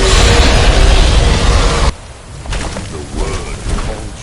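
A dragon's Thu'um shout from the video game Skyrim. It is a massive, roaring blast of noise that fills the first two seconds and then cuts off sharply. A quieter, rumbling tail with faint murmuring sounds follows.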